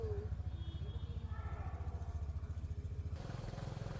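A motorcycle pulling away on a road trip from Pune to Gokarna, its engine a steady close throbbing drone that rises slightly as it accelerates, then shifts in tone near the end.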